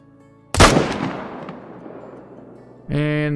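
A single sharp, loud M1 rifle shot aimed at a whitetail deer in the Call of the Wild hunting game, its echo fading over two seconds against quiet ambient tones before a steady hum starts.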